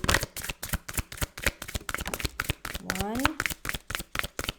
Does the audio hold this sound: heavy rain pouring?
no